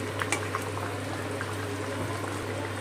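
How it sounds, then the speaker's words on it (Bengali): Rohu fish simmers in a sour raw mango broth, a steady low bubbling with a faint hum and a few soft liquid pops, no talk. "মাছটা এই টকের সাথে একটু ফুটিয়ে নেব।"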